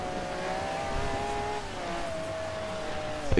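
A car drifts in Forza Horizon 2, engine holding a steady droning note in second or third gear with a slight pitch dip midway, ending in a brief harsh burst; moderate level, no talk.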